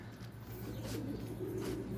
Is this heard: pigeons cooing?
yes